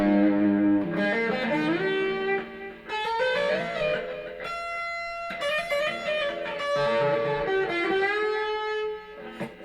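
A Squier Classic Vibe Telecaster electric guitar played through distortion rings out with sustained, gritty chords and single notes, with short pauses between phrases and no voices.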